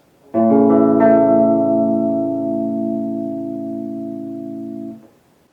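A guitar sounds a partial chord form on strings six through four and three: one strummed chord, with a second light strike a moment later, rings out loud and sustained for about four seconds before being damped.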